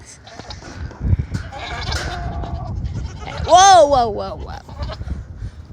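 Goats at a huge goat ranch bleating, with one loud, wavering close bleat standing out clearly, other animals calling faintly around it, and a person exclaiming and talking nearby.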